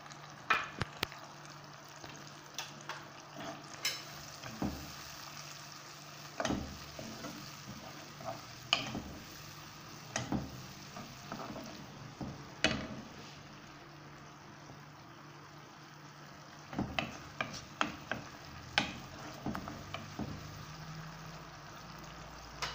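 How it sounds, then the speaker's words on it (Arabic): Garlic and tomatoes fry in a pan while making shakshuka, a quiet sizzle broken by frequent clicks and scrapes of a utensil stirring against the pan, with no voices. "كي تقلالي مليح الثوم والطوماطيش"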